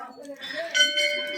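Hanging temple bells at Sem Mukhem temple in Tehri Garhwal ring out with bright, sustained metallic tones that overlap and linger, fairly close and moderately loud.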